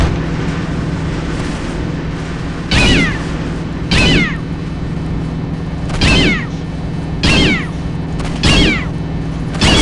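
A cat in Postal 2 meows five times at spaced intervals, each a loud close wail, over a steady low droning rumble.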